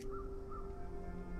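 Two short, faint caws from a crow in the puzzle game Gorogoa sound over a steady tonal ambient drone.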